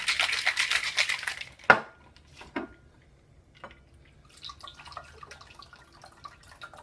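A cocktail shaker of cinnamon caramel apple martini with caramel sauce and cinnamon whiskey is shaken hard in a dense burst of rattling for under two seconds, then set down with a sharp clunk, followed by a few faint clinks.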